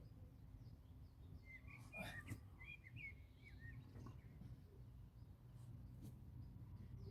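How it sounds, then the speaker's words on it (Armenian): Small songbirds chirping in a vegetable garden, a few quick, faint twittering calls clustered near the middle against a quiet outdoor hush, with no talk. "Ծիտիկների ձայնը լսում եք։"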